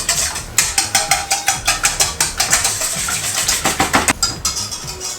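Four eggs with pepper being whisked quickly in a bowl for a noodle frittata, close rhythmic clinking strokes at a steady fast pace with no voices.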